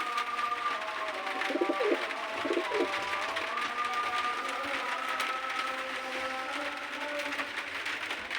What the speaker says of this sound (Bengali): একটা পূর্ণবেলা নসলে সাদা চোখের পয়রা, কালো ঠোঁট, পায়ে ট্যাগ আছে